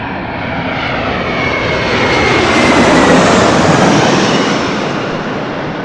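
Airliner passing at LAX, a broad roaring engine rush that swells to a peak around the midpoint and eases off, loud and steady with no talk.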